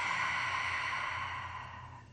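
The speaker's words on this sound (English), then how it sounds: "take an inhale through your nose, and then just an exhale through your mouth" A single long, airy breath rushes out slowly and softly, fading toward the end, like a relaxed exhale in a quiet room.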